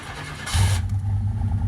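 A Chevrolet C1500 pickup truck engine, just fitted with a replacement fuel pump, cranks briefly, then catches and settles into a rough, steady idle, heard up close.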